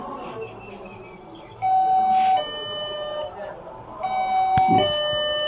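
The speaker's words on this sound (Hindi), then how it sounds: "यहाँ पर बेल बज रही है, डोरबेल" A video doorbell at a security system demo chimes in a few electronic tones while someone talks over it, the ringing clear and close.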